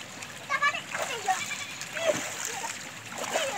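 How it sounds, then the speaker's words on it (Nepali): Children bathing at an outdoor water spout splash and throw water in repeated bursts, while their excited voices call out nearby. "ल पानी फ्याँक अब उता उता पानी फ्याँक"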